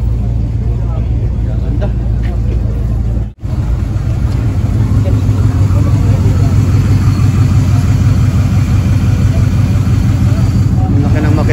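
Custom Chevrolet Camaro with a 5.7-litre V8 idling at an indoor motor show, a loud, steady low engine rumble that continues throughout, with people talking over it and a brief dropout partway through.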